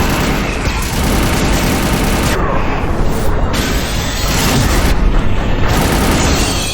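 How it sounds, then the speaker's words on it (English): Anti-ship batteries firing in a space combat game, loud continuous booming barrages and explosions with bursts of heavier blasts, voice chatter mixed underneath. "firing anti-ship batteries at collector vessel."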